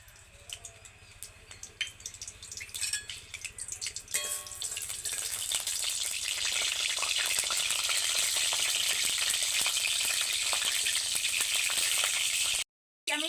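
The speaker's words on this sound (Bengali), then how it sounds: "কড়াতে আমি তেল দিয়ে দিচ্ছি আমি কাঁচা লঙ্কার ফোড়ন দিয়ে দিচ্ছি অল্প করে কালো জিরে" Green chillies and black cumin drop into hot oil in a kadai, starting with scattered pops and then building into a loud, steady sizzle that continues for several seconds before cutting off abruptly.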